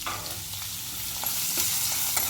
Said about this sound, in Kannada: ಇವಾಗ ತರಕಾರಿ ಮೂರು ಹಾಕಿ ಚೆನ್ನಾಗಿ ಬಾಡಿಸ್ತೀವಿ